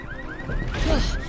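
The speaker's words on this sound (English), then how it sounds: "Never thought I'd be happy to hear a car alarm" A car alarm wails in a cartoon scene, repeated rising whoop tones cycling quickly, with some rumbling clatter beneath.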